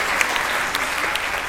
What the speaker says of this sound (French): Alors on va applaudir notre personnage de Méga.